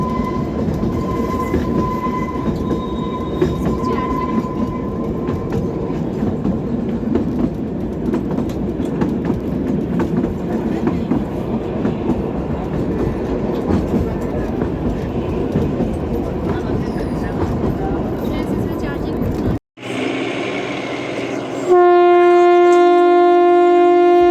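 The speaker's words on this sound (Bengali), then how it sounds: "আর এটা আর একটা টানেল আমরা ক্রস করলাম" Onboard the Shivalik Express heading to Shimla, the train rumbles loudly and steadily with clattering wheels, then the sound abruptly drops and changes as it crosses a tunnel, ending in a sustained tonal hum.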